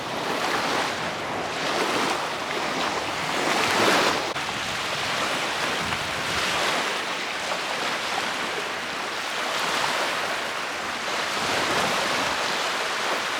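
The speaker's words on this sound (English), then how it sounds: "We are at their scenic overlook, i.e. the beach." Waves break at a beach near Williamsburg, Virginia, a steady washing surf roar with gentle swells, heard up close and fairly loud, with some wind buffeting the microphone.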